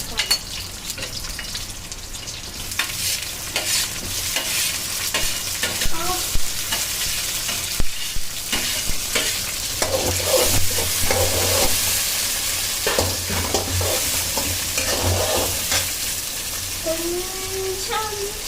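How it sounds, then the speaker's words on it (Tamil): Onion, green chili and tomato fry in a pan with a constant loud sizzle and repeated scraping, stirring strokes, up close, with brief watery splashes and faint voices at times. "வெங்காயம் வதங்கி, பச்சை மிளகாய்,"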